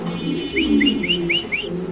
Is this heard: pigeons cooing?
yes